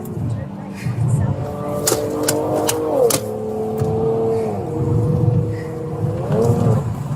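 A car engine revs and drives with rising and falling pitch, held steady under loud, panicked shouting from people inside.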